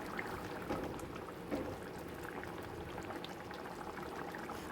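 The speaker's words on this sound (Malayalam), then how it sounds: "ഒന്നാം പാലിൽ കിടന്ന് നമ്മുടെ കറി നന്നായിട്ടൊന്ന് തിളച്ച് വന്നിട്ടുണ്ട്" Mango fish curry simmers in thick first-pressed coconut milk in a clay pot, giving a soft, steady bubbling that stays faint and continuous throughout.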